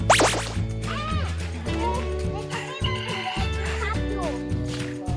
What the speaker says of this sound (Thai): มีไก่แจ้ด้วย